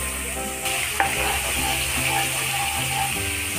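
Ginger and garlic fry in a hot pan with a steady sizzle while a utensil stirs and scrapes against the metal in short clattering bursts.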